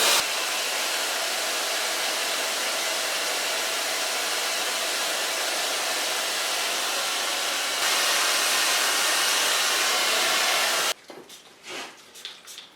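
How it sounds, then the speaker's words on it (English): A hair dryer fitted with a diffuser blows steadily on curly hair at a salon, loud and continuous for about eleven seconds, then cuts off abruptly, leaving quiet handling noises. "because we have to blow dry it with the diffuser, there's no other way"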